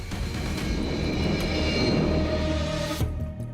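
A fighter jet, an F-18 McDonnell Douglas, roars in a continuous loud engine wash with a sustained whine layered on top, building slightly before fading near the end.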